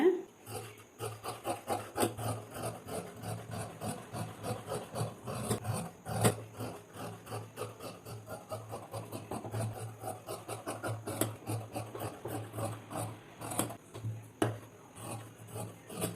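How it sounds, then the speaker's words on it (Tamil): Scissors cutting through the front portion of blouse lining fabric, a steady rhythmic rasping snip repeated over and over, close and moderately soft, with no talking. "இப்போ நான் இந்த ஃப்ரண்ட் போர்ஷனை இது எல்லாமே நான் கட் பண்ணி எடுத்துட்றேங்க"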